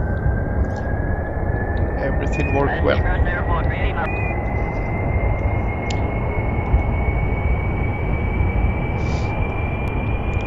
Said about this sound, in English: Jet engine rolling.